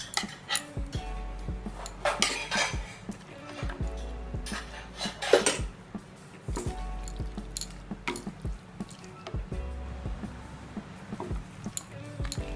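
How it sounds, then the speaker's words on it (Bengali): A ladle scrapes and clinks against a pot of shukto, a Bengali dish made with fish head, as ghee is stirred in, with repeated close metallic knocks and wet squishing before a lid goes on. "অল্প একটু ঘি দিয়ে নাড়াচাড়া করে এবার ঢাকা দিয়ে রাখলাম"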